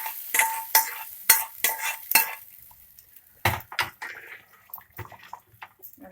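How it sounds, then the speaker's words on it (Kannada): Sizzling tempering poured into lentil saaru with a broad bean and field bean curry, heard as a burst of sharp spoon clinks against a metal pot, then a loud hiss and some quieter stirring knocks. "ನೋಡಿ ಒಗ್ಗರಣೆ ಹಾಕ್ತಾ ಇದ್ದೀನಿ ನಾನು ಸಾರಿಗೆ."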